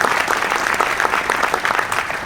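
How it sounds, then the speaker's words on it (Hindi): An audience in a hall breaks into loud, sustained applause, a dense wash of many clapping hands heard up close with no talk over it. "एक बार आपके लिए जोरदार ताली होनी चाहिए"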